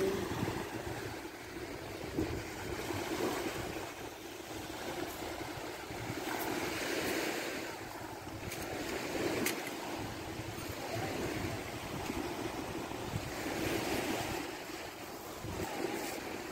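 At sea, steady wind and ocean waves roar and wash continuously, a broad unbroken rush that sits at a moderate, even level with no voices over it.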